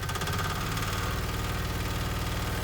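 A small 1-ton mini excavator's diesel engine runs close and steady, a loud, even chugging throb with no voices over it.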